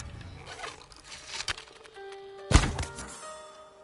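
In Ghost of Tsushima, a longbow arrow strikes an enemy's head with a sharp, heavy thunk, preceded by quieter rustling and a smaller impact, over faint game ambience.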